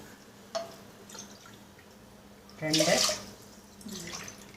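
Water pours onto washed raw rice and toor dal in a pot, a splashing gush that swells for about a second, with small drips and a brief later pour, under occasional talk.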